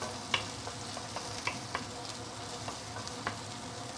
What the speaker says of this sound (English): I left the prawn shell on because I want to get some prawn oil